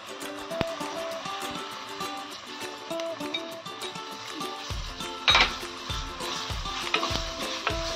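Tomatoes with coriander powder sauté in a hot pan for a Maharashtrian dry black-eyed pea pod vegetable, giving a steady sizzle and frying hiss, while a spoon scrapes and stirs in repeated low knocks against the pan toward the end.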